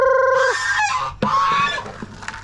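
A startled farm goose honks loudly in a rural yard, giving a couple of sharp nasal calls followed by rougher, noisier honks close to the listener.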